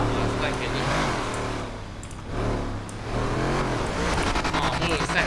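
A car engine in the FiveM game revs and accelerates, its tone climbing and dipping in loud, close sweeps while someone talks over it.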